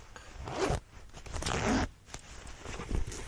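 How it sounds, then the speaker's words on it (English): A zipper on the back of a skirt, handled close up: three rasping zip strokes, each under a second, with brief pauses between them and no talking. "So this one does have a zipper on the back."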